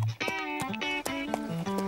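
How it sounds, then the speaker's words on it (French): Cartoon horse hooves clip-clop rapidly in a galloping rhythm at a show-jumping competition, steady and fairly loud under a continuous music bed. "J'adore te regarder galoper."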